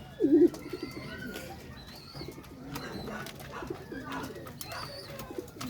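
Pigeons coo softly and repeatedly inside a loft housing racing birds and their squabs, a low steady murmur with faint chirps and some background noise.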